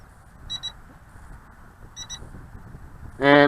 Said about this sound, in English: Heard a couple of beeps.